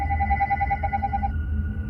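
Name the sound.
house phone ringing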